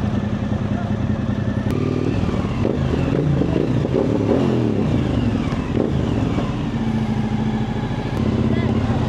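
A 1000cc motorcycle engine drones steadily at speed with wind rush, while people talk over it.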